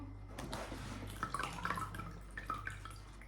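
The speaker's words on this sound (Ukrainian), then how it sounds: "Зараз ми легенько все це вимиємо, наскільки це буде можливо." Water splashes and drips while soil is rinsed from the roots of a fiddle-leaf fig (Ficus lyrata) during repotting, with soft irregular trickles and small splashes close by, over a steady low hum.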